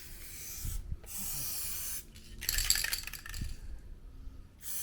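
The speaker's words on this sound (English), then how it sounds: "So we're just going to spray it to prevent it getting any worse, basically." Aerosol protective coating is sprayed onto the floor of a Mercedes Sprinter van conversion in several hissing bursts of one to two seconds, close and steady, with short pauses between them.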